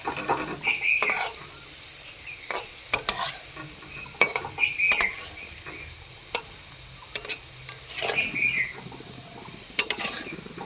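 Soybean pakoras sizzle in a pan of oil while a spatula scrapes and clinks against the metal to flip them, with irregular sharp knocks over a steady frying hiss.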